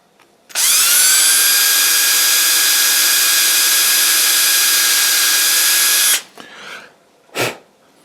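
A power drill with a larger bit enlarges a hole in a part for a big vintage pressure gauge, whining loudly and steadily for about five seconds before stopping, followed by a couple of brief handling clunks.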